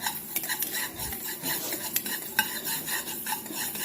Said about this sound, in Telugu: 1 స్పూన్ మెంతులు ఇవి బాగా ఎర్రగా వేయించుకోవాలి.